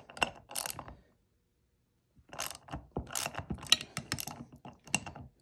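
Ratchet wrench clicking as it loosens the bolts on a ballscrew bearing mount for a Y axis with angular contact bearings, two short bursts of rapid clicks, then a pause, then a longer run of ratcheting close up.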